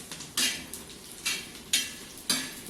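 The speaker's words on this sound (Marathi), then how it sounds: "असं छान हलवून घ्यायचं आहे" Dry Bombay duck (bombil) frying on a flat pan is stirred and turned, four rhythmic scraping sweeps of a spatula across the metal with a soft sizzle in between.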